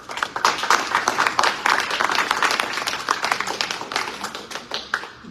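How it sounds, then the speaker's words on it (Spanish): A crowd at a Ministry of Culture bicentennial talk claps to welcome Agustín Panizo, a close, dense run of many hands that holds steady and then tapers slightly near the end. "Recibámoslo con un fuerte aplauso"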